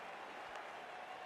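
A cricket crowd at an India versus Pakistan T20 match applauds a departing batter, a steady wash of distant clapping and crowd noise filling the whole short moment.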